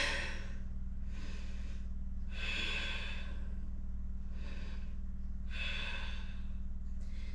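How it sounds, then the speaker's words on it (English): Deep yoga breathing with open-mouth exhales: five or six slow, breathy out-breaths at an even pace, close and clear over a steady low hum. "Big breaths, open mouth exhales."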